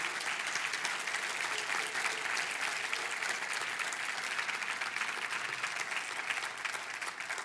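A church congregation applauds steadily through a morning service, a dense, even wash of many hands clapping without a break, fairly close and full.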